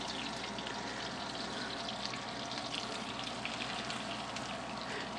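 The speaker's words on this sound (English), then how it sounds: "gently lie it in the pan" Cod fillet frying in a hot pan, a steady broadband sizzle that holds evenly and fairly close throughout, with no talking over it.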